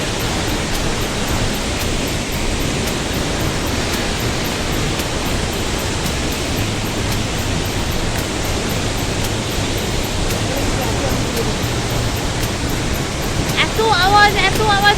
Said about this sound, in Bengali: এই হচ্ছে ছাঙ্গে ফলস।